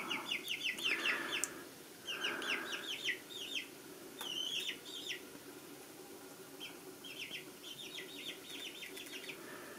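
Backyard chickens, a small rooster among them, cluck in quick repeated bursts at morning feeding time, close and fairly loud, with short pauses between the runs of calls and some flapping of wings.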